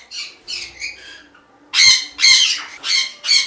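Caged lovebirds and conures at a bird farm give loud, harsh squawks in a choppy series, close and clear, the later calls louder than the first.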